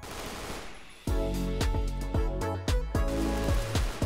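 An M14 rifle fires in Phantom Forces with attachments fitted: a close, loud series of about ten sharp, booming shots, each ringing out briefly, in a steady semi-automatic rhythm with short pauses between them.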